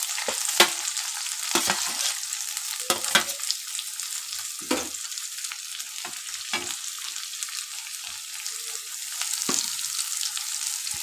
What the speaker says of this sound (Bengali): এবার এর মধ্যে এই যে পেঁয়াজটা দিয়ে দেবো